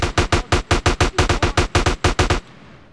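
Rapid automatic AK rifle gunfire in GTA San Andreas: about fifteen loud, evenly spaced shots in a steady burst, then an abrupt stop with a fading tail.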